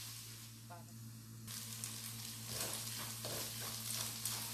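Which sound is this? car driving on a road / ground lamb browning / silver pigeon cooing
ground lamb browning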